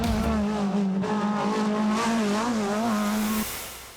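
A BMW M3 E30 Group A rally car engine revs loud and close with a strong, wavering harmonic tone for about three and a half seconds, then drops off sharply as the throttle closes.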